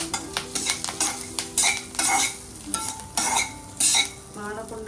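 Food crackles and spits in a hot pan while a utensil scrapes and stirs it in irregular bursts, close and fairly loud, with metal clinks between the sizzling surges and no talking.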